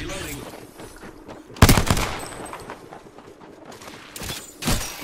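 Gunfire in Apex Legends on the World's Edge map, played as Pathfinder: a sharp, loud burst of rapid shots near the start, then quieter scattered rounds and another short burst near the end, close by.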